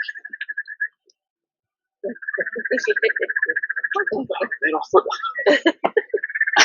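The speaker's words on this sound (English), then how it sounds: "That's the Erin's tree frog." Eraine's tree frog calling in a garden setting, a rapid clicking, rattling call repeated in bursts, loud and close, with a pause before it resumes and continues steadily to the end.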